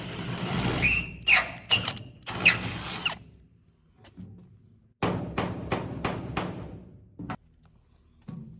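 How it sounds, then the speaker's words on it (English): A hammer knocks down old holes in a horse trailer, striking in sharp, close raps: a few scattered blows, a pause, then a quicker run of hits with one final strike. "I hit down the old holes with a hammer just to flatten them a little bit"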